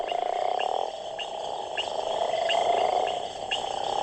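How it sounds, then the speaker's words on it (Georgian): Toads call in late winter, a chorus of steady trilling croaks near the listener with faint rhythmic clicks repeating about every half second, continuous and moderately loud. "კონტინენტის ამ კუთხეში გომბეშოების ხმები გვიანი ზამთრის საუნდტრეკად იქცა."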